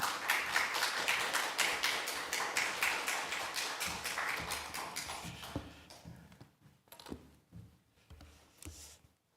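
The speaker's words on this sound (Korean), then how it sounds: "우리 목사님 오실 때 따뜻한 박수로 환영하겠습니다." A church congregation gives warm rhythmic applause to welcome the pastor, steady group clapping that thins out halfway through into a few scattered, fading claps.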